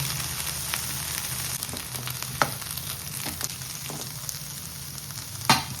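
Vegetables with salt and a little added water cooking in a pan, making a moderate steady sizzle with a few sharper pops and scrapes, and no talking.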